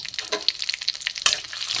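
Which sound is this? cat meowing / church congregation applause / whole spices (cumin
whole spices (cumin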